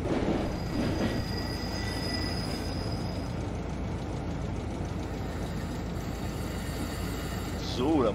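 Train in Train Simulator 2021 rolling slowly along a track toward a waiting wagon to couple. A steady rumbling roll with faint wheel squeal continues throughout, and a short squealing screech comes near the end.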